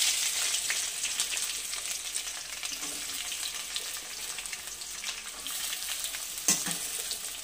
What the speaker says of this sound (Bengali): এবার ওই তেলের মধ্যে আমি পেঁয়াজ দিয়ে দিচ্ছি।